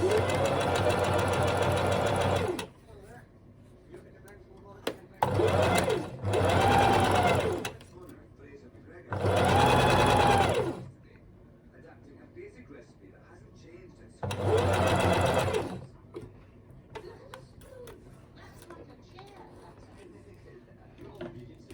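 Sewing machine stitching fabric for a doll's legs, running in several short bursts of rapid mechanical whirring separated by pauses in which a person talks quietly.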